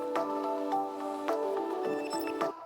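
A pitched, ringing snare drum sample from a track strikes repeatedly in an irregular pattern, each hit sustaining a bright tonal ring, alone and close.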